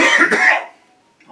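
A single loud throat-clearing cough, close to the mic, that stops abruptly and is followed by a brief quiet moment and a faint sound.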